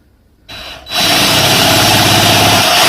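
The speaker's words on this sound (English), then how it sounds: "Drilling the hole, I'm going to be using my tapered cone cutter" A power drill with a tapered cone cutter starts after a moment of quiet, briefly revs, then bores steadily into wood at a loud, close, continuous whir.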